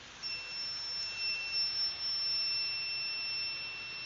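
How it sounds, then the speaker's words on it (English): An intrusion detection alarm gives off a steady, high-pitched electronic tone, faint and continuous with brief breaks, holding for about four seconds with no voices. "the intrusion detection system will start alarm"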